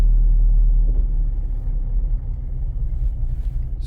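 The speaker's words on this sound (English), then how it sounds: "we'll turn the engine back on" Car engine idling, a loud steady low rumble close by with slight fluctuation, no talking.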